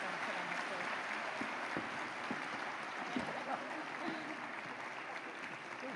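Sustained audience applause for awardees at an awards ceremony, a dense steady wash of clapping from a crowd, with a few louder nearby claps.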